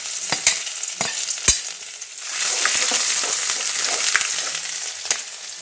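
Ginger and garlic frying in a pan for Tamil-style mango rice, a steady close sizzle with a few sharp clicks of a spoon on the pan early on and no talk.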